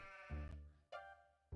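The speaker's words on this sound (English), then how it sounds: "and a sheep for some fucking reason" A sheep in the horror video game Harvester gives a wavering bleat, then a second shorter one, close and clear with no speech over it.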